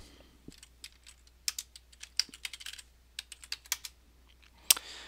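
A MySQL login command is typed on a computer keyboard: a quick run of close, crisp key clicks with short pauses, ending in one louder tap.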